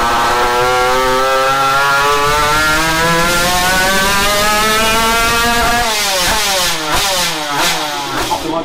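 Moped engine fitted with a 115 LMR kit, ignition advance reduced, revving hard nearby: a loud buzzing two-stroke note holding high revs, then rising and falling in several quick blips toward the end.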